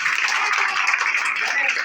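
An office program crowd gives a dense, steady burst of clapping for their leader, many hands at once, close and fairly loud for the whole moment.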